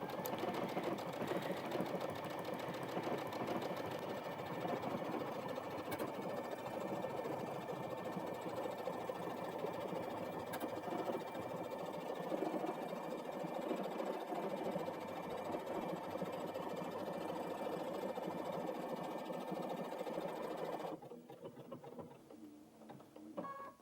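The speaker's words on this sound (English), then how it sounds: "So let's stitch out the word brother." A Brother Innov-is VQ2 sewing machine stitches out lettering in a fast, steady mechanical whir and rapid needle chatter for about twenty seconds, then stops abruptly, leaving only faint clicks.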